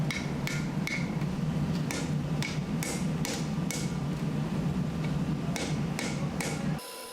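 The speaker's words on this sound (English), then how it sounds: "Utilize the curvature of anvil horn to shape the handle's curve." Knife handle forged from a box cutter blade being shaped with a hammer on the curved horn of an anvil, heard as a steady run of close, ringing hammer blows at an even rhythm, with no talking.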